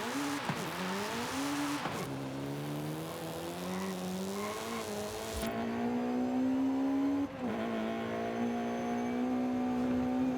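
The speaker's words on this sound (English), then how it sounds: "Big VTEC noises coming out of this thing." A front-wheel-drive Honda with VTEC, roughly 300 horsepower, revs hard in Forza Horizon 5, its engine note climbing and holding through the gears with brief dips at the shifts, loud and close with no talk.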